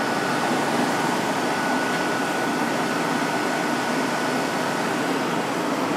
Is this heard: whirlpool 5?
yes